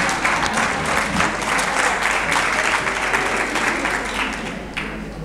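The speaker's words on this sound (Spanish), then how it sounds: "Espontáneo aplauso." Steady applause from an audience at a hotel lunch gathering in Marbella, fairly close and sustained for several seconds before easing slightly toward the end.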